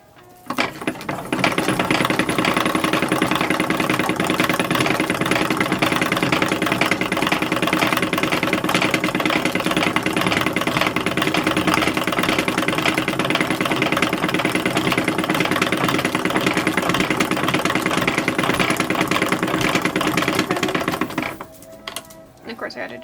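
Sewing machine stitching bodice yoke pieces onto the plain parts of an 1860s cotton print dress bodice, a steady loud mechanical whir running continuously for about twenty seconds before stopping near the end.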